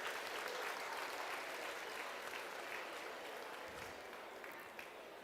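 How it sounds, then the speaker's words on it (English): A crowd in a building at a giant vegetable weigh-off applauds the growers, a faint, distant, sustained wash of clapping that slowly thins out. "I would like everybody in the building to give a huge round of applause for our growers."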